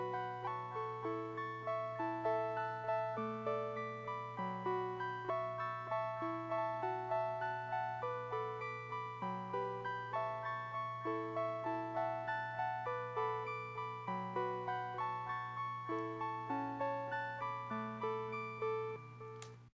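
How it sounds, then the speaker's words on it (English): An omnichord synth layer run through analog delay, rippling arpeggiated strums repeating in a steady rhythm over a constant low drone, moderately loud and alone. "last synth is an omnichord layer that comes in right at the top of the second verse"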